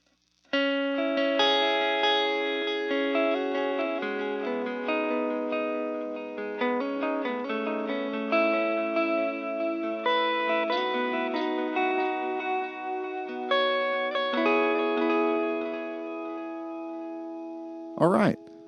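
Gretsch hollowbody electric guitar playing a continuous melodic riff through effects, steady and fairly loud, ending with a brief sharp noise near the end.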